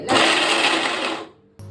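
A kitchen mixer grinder whirs loudly and close as it grinds spices for a raw mango pickle, running for about a second before cutting off abruptly.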